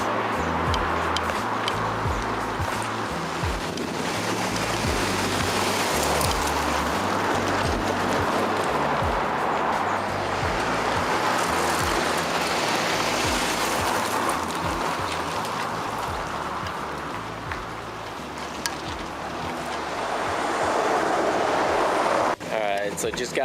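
A 1979 Chevy El Camino with newly replaced drum brake wheel cylinders driving around the block, its engine and road noise a steady, close rumble throughout, dipping briefly before swelling again near the end.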